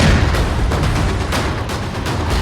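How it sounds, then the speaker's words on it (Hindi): A house in Pulwama, Jammu and Kashmir, demolished by a powerful explosion, a loud booming blast with rumbling, echoing roar sustained over a couple of seconds. "2, 1 और जोरदार ब्लास्ट।"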